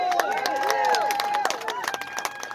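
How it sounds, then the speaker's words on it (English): Protesters at a CDC protest clap in a brisk scatter of sharp hand claps mixed with cheers and voices, fairly close, thinning toward the end. "Give yourselves a round of applause"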